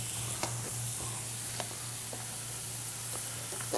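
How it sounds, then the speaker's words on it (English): Frozen peas sauté in oil in a pan, giving a steady, even sizzle with a few faint clicks from stirring and a low hum underneath. "A nice little saute going there."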